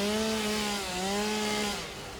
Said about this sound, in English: can I do it if I just chainsaw right here?